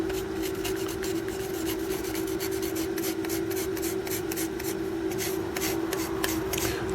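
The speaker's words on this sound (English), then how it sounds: "go lightly over the top here with the fiberglass pen" Fiberglass pen scrubbing lightly over a circuit board during a Commodore Amiga A500 repair, a close, fine scratchy rasping in quick repeated strokes over a steady background hum.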